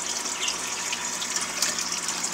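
Extra outflow water from a crude aquaponics setup in Jeddah runs steadily into a clarifier, a continuous close splashing trickle with no voices.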